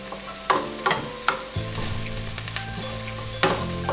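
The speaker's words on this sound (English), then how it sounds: "Now that we have put in our onion and our garlic and it has sauteed" Onions and garlic sauté in a pan for a veggie curry, a steady close sizzle with a few sharp clinks and scrapes of stirring, no voices.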